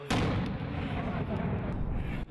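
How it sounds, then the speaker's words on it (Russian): Gunfire from behind a building during heavy fighting in a Syrian village comes as a loud, sustained roar of heavy shooting or artillery with no clear gaps, fairly close and harsh. "Стреляют из-за этого здания"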